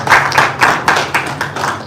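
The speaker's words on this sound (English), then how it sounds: "Please, a round of applause" Applause from an audience at a luxury event unveiling, with distinct hand claps landing in a loose, uneven rhythm, close and fairly loud, and no talking over it.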